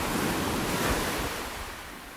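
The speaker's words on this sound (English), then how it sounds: "crashing waves in the distance" Ocean surf breaking on a sandy, driftwood-strewn beach in New Zealand, a continuous broad wash of waves with some wind noise, fading slightly toward the end.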